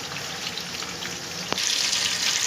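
Half a cup of oil sizzles and crackles in a hot kadai, a steady close frying hiss that swells louder after a small clink, with no talk.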